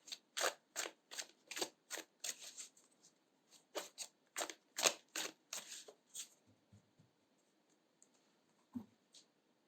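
Tarot cards being shuffled, a quick run of crisp riffling bursts that fades into a few soft taps and clicks, close and quiet.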